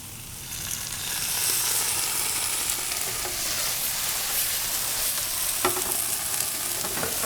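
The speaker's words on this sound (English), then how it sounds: "What we're gonna do is add some of our sauce." Wilted mushrooms sizzle and fry in a pan as tomato sauce goes in, a steady broadband hiss with a few sharper crackles and stirring scrapes near the end, no talking.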